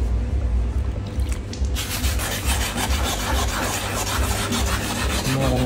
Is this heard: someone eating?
no